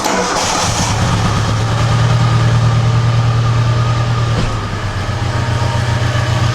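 An old 4x4 with a suspected spark plug or injector fault starts up and settles into a loud, steady idle with a low engine hum, the rumble dipping slightly near the end.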